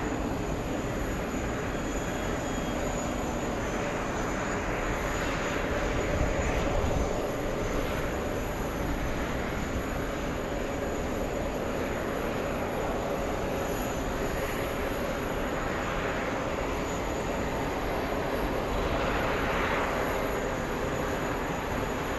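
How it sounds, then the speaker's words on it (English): An Aeromexico Boeing Dreamliner pushes back at JFK, a continuous dull engine rumble with a whining hum held steady for over twenty seconds, slight swells rising and falling. "Pushing back, Aero Mexico in the Dreamliner"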